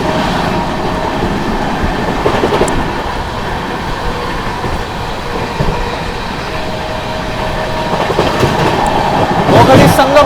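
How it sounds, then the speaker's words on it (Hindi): A Rajdhani Express train rolls at speed past the Alipurduar–Panvel Amrit Bharat Express, with a continuous loud rumble and rhythmic wheel clatter heard from on board, and brief sharper rattles near the end. "ओवरटेक दिखाते हैं अलीपुर द्वार जंक्शन पनवेल अमृत भारत एक्सप्रेस का"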